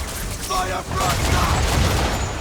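Cannon fire from a ship's broadside in Assassin's Creed 3 booms in dense overlapping blasts, a loud continuous fusillade with a brief dip before heavier rumbling volleys roll on, shouted voices faintly mixed in.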